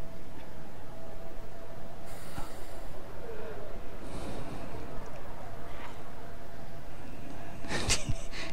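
Steam locomotive exhaust in the Train Simulator game, heard as irregular breathy chuffs and snorting bursts over a steady low rumble, with a sharper burst near the end.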